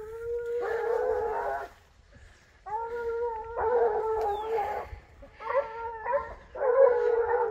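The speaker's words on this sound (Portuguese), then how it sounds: "Chama os cachorros!" Hunting dogs on a wild boar hunt, howling and baying in several long drawn-out bursts close by, with short pauses between the bursts.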